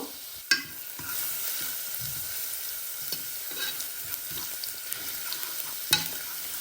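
Chopped garlic frying in hot oil until golden, for homemade momos: a steady close sizzle with a utensil stirring and occasional sharp clicks against the pan, no talk.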